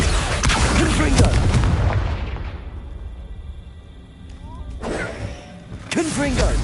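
Booming Confringo spell blasts from the Hogwarts Legacy video game hit loud and deep, with a big burst at the start, another around the middle and a third near the end, separated by quieter decaying rumble.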